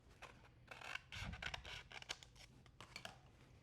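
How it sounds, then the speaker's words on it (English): A pair of scissors cuts through material in a workshop, with a series of close, quiet snips and rasping strokes in an uneven rhythm. "pair of scissors."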